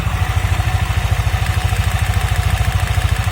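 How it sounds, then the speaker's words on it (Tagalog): A Yamaha NMAX scooter engine idles steadily with a fast, regular rattling clatter riding over the low throb, close and loud, no voices. "yan naririnig nyo mga ganyan yung tunog ng motor nyo"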